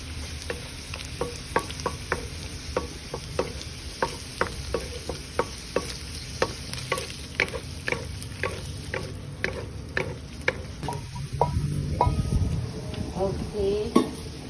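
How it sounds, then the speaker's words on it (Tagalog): Onion sautéing in a pan for a garlic shiitake mushroom dish, with steady sizzling and repeated stirring taps of a utensil against the pan throughout, growing louder and busier near the end. "we're gonna saute the onion"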